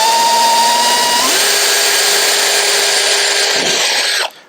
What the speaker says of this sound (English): try and drill through one of these and see where we go